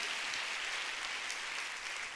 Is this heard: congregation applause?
yes